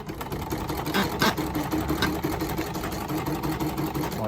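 Cny E900 portable embroidery machine stitching a sash at 650 rpm, a steady rapid mechanical whirring and clatter with an even needle rhythm running continuously at close range.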